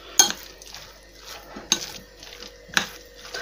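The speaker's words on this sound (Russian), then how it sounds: "Так, теперь все хорошо перемешиваем." A cheese and egg mixture is stirred in a bowl with a utensil, three sharp clinks against the bowl spaced about a second apart amid softer scraping and stirring sounds.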